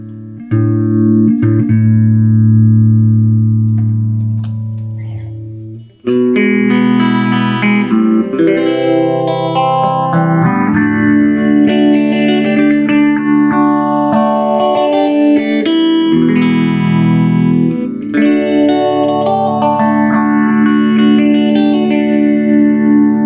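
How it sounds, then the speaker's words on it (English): A distorted electric guitar chord through a late-1970s Peavey Deuce VT tube amplifier rings out, its tone swept by the amp's built-in phaser, a slow, rhythmic whooshing that rises and falls in repeating cycles. "another cool thing with this is a built-in phaser."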